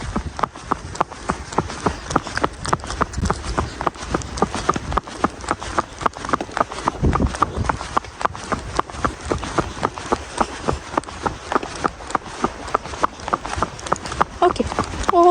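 A pony trotting on a ride, its hooves clip-clopping in a steady fast rhythm close by throughout, with people talking over it.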